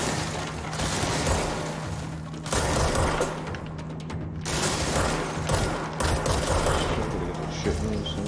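Gunfire in the video game Control comes as dense bursts of shots and crashing impacts under a steady low hum. The bursts pause briefly and then resume, loud and close.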